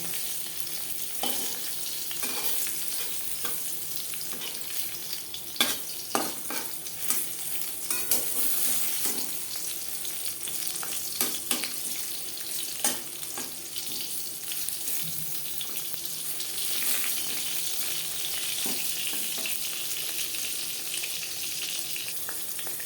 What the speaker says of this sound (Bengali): পটল ভাজা হয়ে গেছে এর থেকে বেশি ভাজবার প্রয়োজন নেই